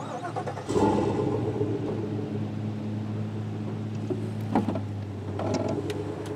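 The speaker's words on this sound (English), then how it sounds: "move the trailer forward to see if the brakes are holding" A truck engine idles and then pulls forward with a trailer hitched during a trailer brake check, a steady close mid-range rumble with brief clanks partway through.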